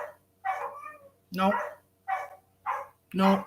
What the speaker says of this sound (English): my dogs are going to bark nonstop